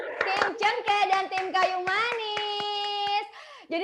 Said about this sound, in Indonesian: Yeay, tepuk tangan dong.